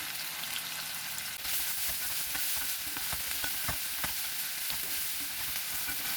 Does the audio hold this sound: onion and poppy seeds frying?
yes